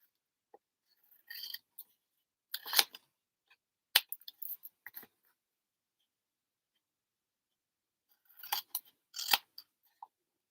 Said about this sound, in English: just take my scissors and just cut off any of the little bits that are hanging over the edge